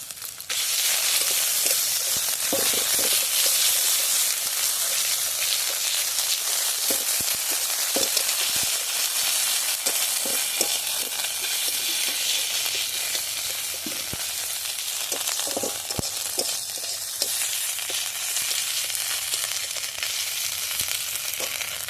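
Ginger frying in oil in a pan with five-spice tempering for a bata fish curry, giving a steady, close, bright sizzle throughout with scattered crackles and pops and no talking.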